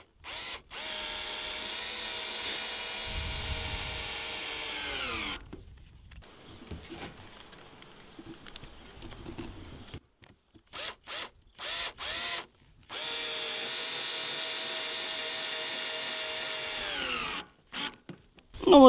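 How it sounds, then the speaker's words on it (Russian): A power screwdriver drives screws into a metal roofing sheet on a beehive roof, making sustained whirring runs with a rising pitch, pauses and short bursts between them, close and clear. "Осталось последних 2 шурупа. Я сейчас прикручу и покажу,"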